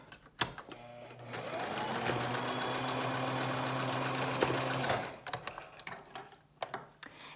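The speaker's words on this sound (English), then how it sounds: "can fast forward this bit instead of watching me sew" A sewing machine stitches a fabric mask, starting with a sharp click, then running in a steady close whir for about four and a half seconds before stopping, followed by scattered handling clicks.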